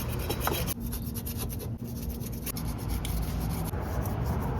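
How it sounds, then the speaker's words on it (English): Rough scraping of old RTV sealant off a Jeep TJ Dana 30 differential cover, repeated rasping strokes close up, steady and fairly quiet, no talk. "scrape off all the sealant gunk"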